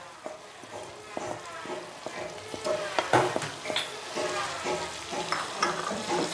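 Eggplant being stir-fried with freshly added spring onions, with a steady frying sizzle under repeated scraping strokes of a spatula against the pan, close and moderately loud.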